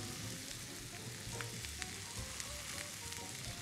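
Onions going into a pan with meat, giving a steady hissing sizzle close by with a few small pops and clicks, faint overall and without speech.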